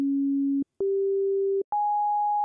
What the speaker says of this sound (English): sine waves are probably the easiest one, right? That's just a pure tone